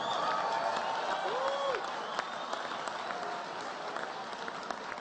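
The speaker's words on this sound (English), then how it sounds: "Give them a round of applause." An audience at the 2017 White House Correspondents Dinner applauds, a dense wash of clapping that starts strong and tapers off gradually.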